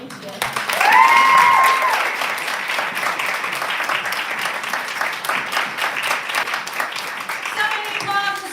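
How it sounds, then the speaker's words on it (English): An audience at an evening poetry reading applauds poet Elizabeth Strauss Friedman after her reading, a steady wash of clapping with a brief sustained tone near the start and a voice speaking at the end. "So many applause for Elizabeth Strauss Friedman."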